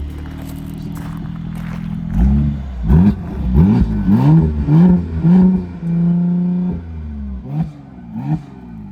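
A Mercedes-Benz SLC43 AMG with a 3.0-litre V6 biturbo engine in sport mode, idling loudly up close and then blipped through a run of sharp, throaty revs, each rise falling back to a rumbling idle.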